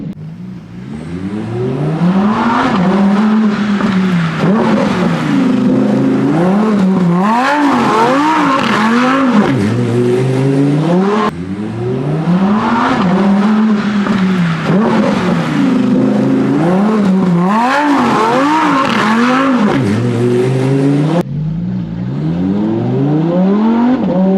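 A Lamborghini slides on an empty road, its engine revving hard in rising and falling sweeps while tires squeal, loud and close, in two long runs with a brief break.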